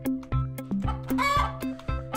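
Clucking from a video game chicken, a quick run of sharp, close squawks repeating every fraction of a second, loud and alone.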